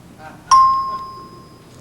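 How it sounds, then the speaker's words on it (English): A single bright bell chime on the 1977 game show Double Dare rings out clearly and decays slowly, preceded by faint murmuring and followed by a short click. "You can look when you hear the chime"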